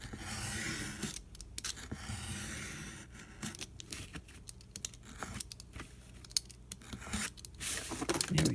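Scissors cut paper for a journal cover, held still against a book. Quiet, irregular snips and paper rustles sound up close, with no voices.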